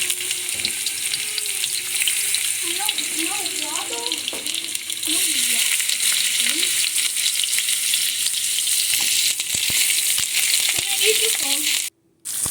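Onion and garlic sizzle in hot oil in a pan, a steady loud frying hiss with occasional stirring scrapes, while people talk in the background.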